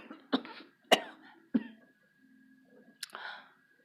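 Phlegmy, rattling coughs from a shaman lying down, three sharp close bursts followed by a throat-clearing cough, with quiet pauses between and no speech.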